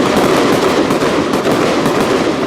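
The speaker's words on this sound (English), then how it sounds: "Fireworks from the people, east side of Detroit." A loud, continuous barrage of crackling fireworks on Detroit's east side for the Fourth of July, rapid pops blurring together close to the listener with no talking.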